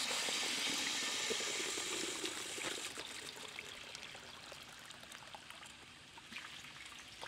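Water runs at about 1.5 gallons per minute through carbon and deionization filters, a soft, steady hiss and trickle that fades slightly over time.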